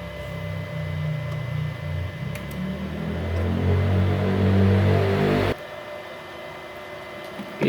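Two 450-watt arc welding machines, one blue and one grey, switched on and running side by side, giving a steady close electrical hum and fan whir that drops abruptly near the end when one cuts out.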